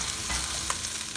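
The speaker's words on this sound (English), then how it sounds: "Let it saute a little bit more." Rice for vegetable pulao sautéing in a pan, a dense, continuous close sizzle and fry with faint stirring scrapes throughout.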